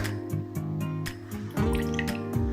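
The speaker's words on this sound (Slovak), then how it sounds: "a dáme vodu." Water is poured into a pot holding deboned, sliced ham for a ham recipe, heard as a soft, continuous dribbling and splashing close by without talk.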